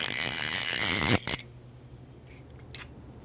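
Ratchet clicks from a vintage prewar Hardy Perfect salmon fly reel being backed off and unscrewed. A dense, loud run of clicking fills the first second, then a couple of sharp clacks follow and a faint quiet tail trails off.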